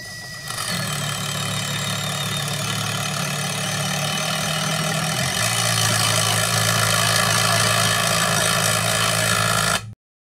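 A Makita compact drill/driver runs in low gear during a torque test, whirring loud and continuous for about ten seconds with a slight pitch shift midway, then cutting off abruptly, no voices.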